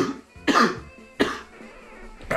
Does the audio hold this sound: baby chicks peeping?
no